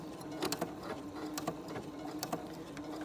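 An overlock sewing machine stitches the edge of mesh fabric, running with a steady fast mechanical whir and sharp ticking clicks that rise out of it at a few points.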